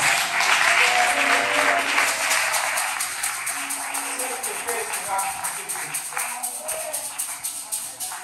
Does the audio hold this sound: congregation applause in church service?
yes